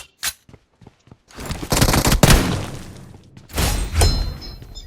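Gunfire in the mobile battle-royale game PUBG Mobile from a shotgun, starting with several sharp separated blasts, then denser loud bursts of shots with crashing, shattering noise, with no talk.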